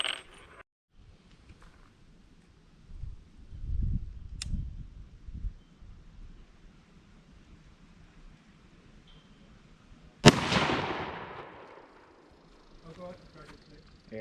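A single sharp rifle shot cracks out and rings off into the distance while sighting in outdoors before hunting season, with people talking quietly before and after it.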